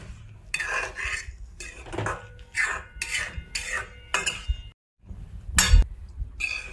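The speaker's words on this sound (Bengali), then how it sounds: "এবার আমরা একটু নাড়িয়ে নেব।" A utensil stirs an egg and mustard curry in a pan, giving repeated scraping and clinking strokes at a steady rhythm, close and moderately loud, with a brief silent gap before a sharper clink.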